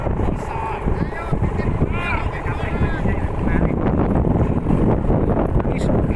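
Strong wind at Lampon beach buffets the microphone with a loud, continuous roar and rumble, while people talk over it.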